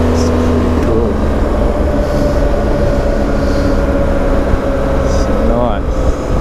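A vehicle engine drones steadily on the winding Reefton Spur road, a loud continuous hum with brief pitch swoops as the throttle is worked in and out through the bends.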